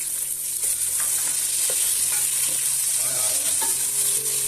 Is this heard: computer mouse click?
no